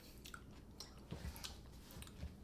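Homemade Japanese gari pickled ginger being chewed up close, a few soft crunchy bites and moist mastication sounds, quiet with no talking.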